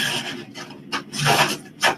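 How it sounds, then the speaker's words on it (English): A wooden piece is sanded by hand, giving close, raspy rubbing strokes in an irregular rhythm with short pauses between passes. "you're gonna do a little bit of sanding on it"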